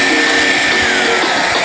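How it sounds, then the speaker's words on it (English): A hot air dryer blows with a loud, steady whooshing roar and a faint high whine, close by and constant throughout, with no talking. "Hit these bad boys with a hot air dryer."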